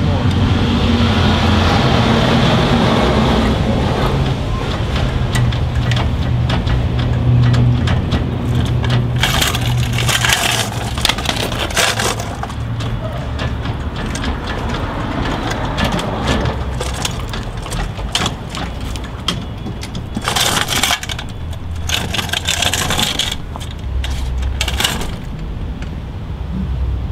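Sheet metal worked through an English wheel, a loud steady grinding roll with rattling metallic clatter and bursts of harsher scraping as the panel is pushed back and forth.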